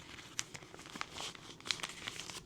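Paper packaging folded around trading cards for shipping in a plain white envelope, a quiet close-up run of crinkling and creasing with a few sharp crisp snaps.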